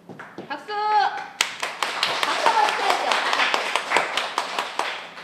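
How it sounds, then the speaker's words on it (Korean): Audience applause breaking out after a poetry recitation, a brief spoken call first, then dense clapping from a roomful of people swelling and continuing to the end. "박수!"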